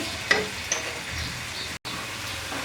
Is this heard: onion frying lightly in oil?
yes